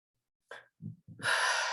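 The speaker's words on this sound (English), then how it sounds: "Breathing in and breathing out." A sharp breath drawn in, followed by a couple of soft breathy sounds and then a long, audible exhale close to the mic.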